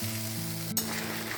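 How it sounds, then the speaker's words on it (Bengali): Paneer frying in a pan gives a close, steady sizzle, with one brief crackling burst midway and no talk. "আমি এখন পনির ভাজবো।"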